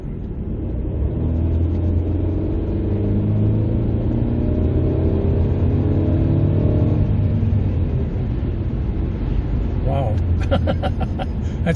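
A car accelerates hard in comfort drive mode, its engine revving in a steady, loud, continuous rumble, with a brief burst of higher noise near the end.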